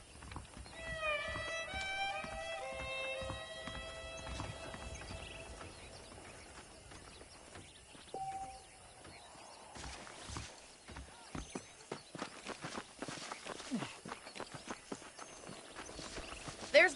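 Horse hooves clip-clop in a rhythmic run in Red Dead Redemption, rising in density and loudness in the second half, after a stretch of game music and talk at the start.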